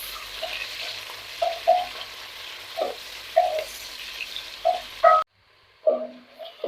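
Three large onions browning in a pan for biryani, a soft sizzle broken by repeated short scraping stirs and clinks, with a brief cut to silence before one more stroke.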